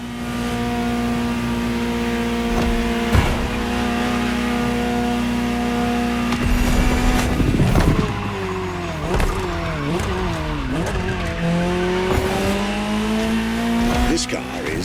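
Ferrari GTO engine in The Crew Motorfest racing game, a steady idle drone followed by repeated revs rising and falling through the gears, with tire noise, all fairly loud and close.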